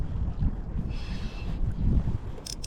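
Strong wind buffeting the microphone outdoors while fishing, a constant low rumbling roar with gusty swells and no voices.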